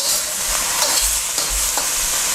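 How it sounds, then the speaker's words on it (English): Scallions stir-frying in a hot wok for a Chinese vegetarian stir fry, giving a steady loud sizzle with a few scraping stirs of the spatula, close up and free of talk. "So we just keep on frying until the scallion is done."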